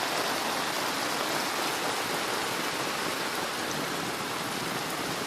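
Heavy rain pours steadily outdoors around a house with a gutter, a dense, even, unbroken hiss of falling water with no voices.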